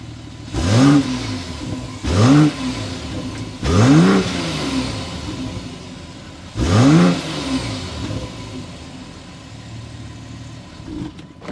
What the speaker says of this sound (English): so you can hear that exhaust note